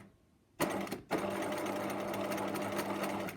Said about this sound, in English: I need to stitch that down. So just stitching the ribbon in place.